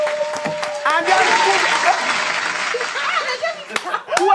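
Studio audience at a Nigerian TV night show applauds with clapping and some laughter, a dense steady roar filling the whole stretch, with a voice briefly heard over it.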